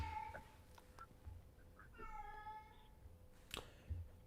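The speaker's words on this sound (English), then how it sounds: "You guys hear that cat?" A cat meows indoors, a short drawn-out cry at moderate distance, faint against a quiet room with a few small knocks and shuffles around it.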